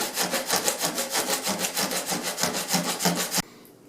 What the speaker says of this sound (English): let's take some sandpaper over it